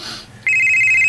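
A cellphone bursts into a loud, sustained electronic ringtone after a brief quiet moment and keeps ringing steadily.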